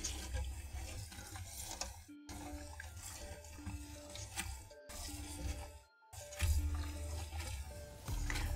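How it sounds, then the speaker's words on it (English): Tap water runs into a pot of shrimp being rinsed for caldo de camarón, a steady splashing stream broken by a few short pauses as the flow stops and restarts. "So just put them in the pot, rinse them a few times."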